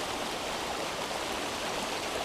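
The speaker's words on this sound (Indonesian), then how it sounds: "kita bisa melihat air sungai yang mengalir ini" A muddy, rain-swollen river runs past the bank after a downpour, its steady broadband rush of flowing water filling the whole stretch with no pauses and no voices.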